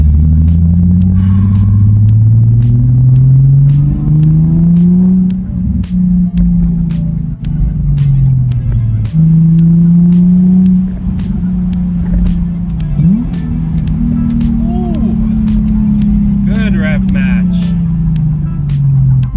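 Nissan 350Z engine revving hard under acceleration, a loud, sustained rising-and-falling drone that climbs through gears with brief dips at shifts, heard close from inside the car with talk over it.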